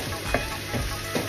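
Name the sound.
tomatoes cooking in a pan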